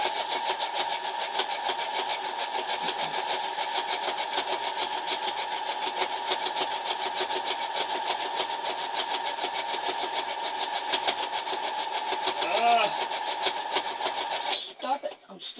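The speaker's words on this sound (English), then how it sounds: "And I'm going to zigzag all of it down." Domestic sewing machine zigzag stitching the fabric of a small child's skirt, a steady, continuous rapid mechanical whir running close and loud almost throughout, stopping near the end.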